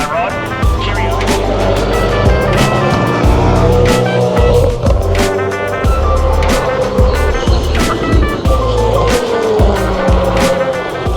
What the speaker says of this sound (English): You see the cars basically hammering it down the straight, 250 k's into this first corner